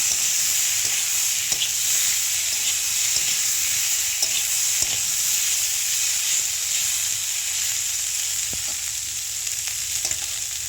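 Potatoes frying in oil with turmeric and salt: a dense, even hiss of sizzling fat that holds steady throughout, close and loud, with a few faint clicks and no talk.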